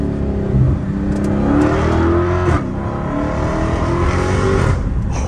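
Dodge Challenger Hellcat Redeye engine revving hard while driving at sunset, a loud continuous roar heard from inside the car, with rising pitch sweeps and a brief gear change in the middle.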